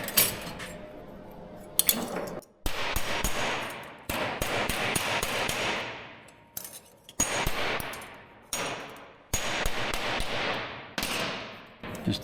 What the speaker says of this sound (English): Just a little bit of hammer massaging.